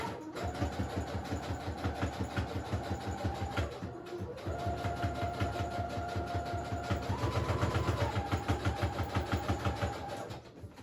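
A sewing machine runs a straight stitch while making a wallpaper journal, a steady rapid needle rhythm with a brief pause in the middle, fairly close and continuous throughout.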